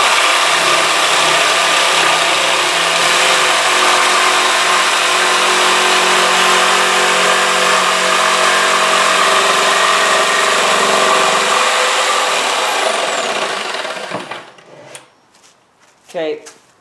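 A power saw cuts a 45-degree angle through a spruce stair riser, a loud, steady rough whine lasting about fourteen seconds before it stops abruptly, followed by a few short knocks and scrapes.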